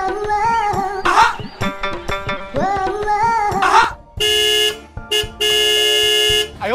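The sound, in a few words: vehicle horn honking in traffic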